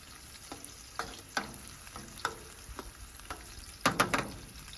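Purslane stems sautéing in a pan over a wood stove, a soft steady sizzle broken by repeated scraping stirs and a louder clatter of stirring near the end.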